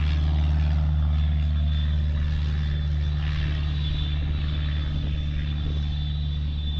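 Steady engine drone of a small BD jet aircraft at an airport, constant and moderately loud with a thin high whine on top and wind rumble underneath, no voices.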